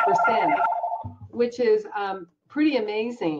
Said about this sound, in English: Sorry about the phone, we forgot to turn it off.